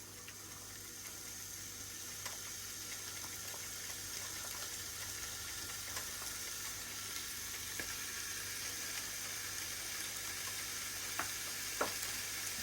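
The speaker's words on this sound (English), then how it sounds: "The wonderful sound of cooking bacon, eh?" Very thin bacon rashers, two slices at a time, sizzling on a faulty Tefal Optigrill, giving a quiet, steady crackle with scattered small pops and no talking.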